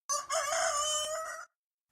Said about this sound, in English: Somewhere in the pre-dawn light sounded a rooster.